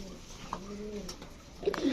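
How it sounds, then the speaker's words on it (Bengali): Racer pigeons coo among a flock at a pigeon farm, soft rolling calls close by, while someone talks over them. "তো সবগুলাই হচ্ছে রেসার কবুতর"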